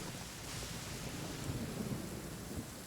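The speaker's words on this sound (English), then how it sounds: "Randomly thunderstorm." A Genshin Impact thunderstorm rumbles low and steady under a continuous wash of rain, with a soft, distant roll swelling slightly midway.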